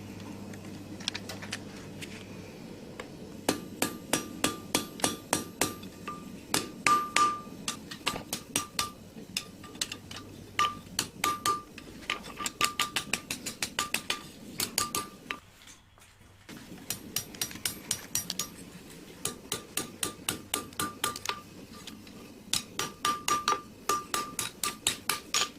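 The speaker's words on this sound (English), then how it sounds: "The rest I'll do with the hammer." Hammer shaping a metal blank into a hand-forged herb chopper, sharp ringing strikes in quick rhythmic bursts with brief pauses between runs, close and bright over a quiet workshop background.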